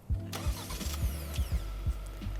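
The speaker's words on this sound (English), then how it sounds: "you press on the lock and you press and hold to start the car" Remote-started engine of a 2024 Hyundai Santa Fe Limited catching and settling into a steady, close idle, with a few brief clicks and throbbing pulses along the way.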